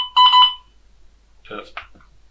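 A MEDUVENT Standard emergency ventilator sounds a short, sharp, pulsing electronic alarm tone during a function check, loud and close, followed by a brief spoken phrase.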